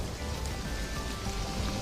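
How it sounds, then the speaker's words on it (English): Rain falling in an animated Shrek film scene, a steady dense patter on surfaces that continues evenly throughout with no voices over it. "It's just the rain"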